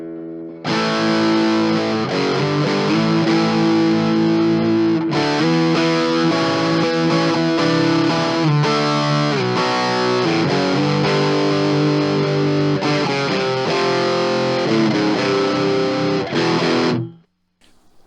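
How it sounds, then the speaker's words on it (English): A heavily distorted electric guitar plays loud, gritty chords and riffs continuously, then cuts off abruptly at the end. "Here's the distortion."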